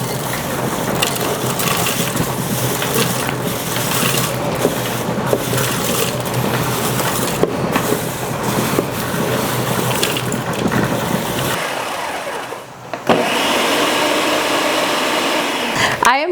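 Dried red onions being ground into purple onion powder in a loud, continuous whirring grind that runs for several seconds, cuts out abruptly, then resumes at a higher, thinner pitch.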